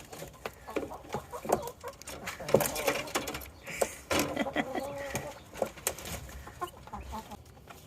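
A rooster makes soft, repeated clucks and low murmuring calls to hens at close range, irregular in rhythm, with some faint background rustling.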